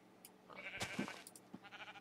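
Sheep bleating in the Minecraft video game, a few short, quiet bleats scattered among soft game sounds.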